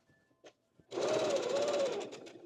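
A home sewing machine runs in one steady burst of stitching through fabric for about a second and a half, loud and close, after a few quiet handling taps.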